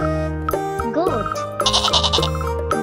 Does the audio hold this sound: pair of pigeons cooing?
no